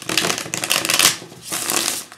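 A tarot deck is shuffled by hand close up, giving a dense, continuous riffling and flapping of cards with brief pauses, loud and alone, with no voices.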